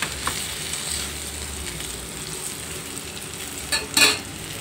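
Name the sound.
urad dal and sesame seeds frying in a pan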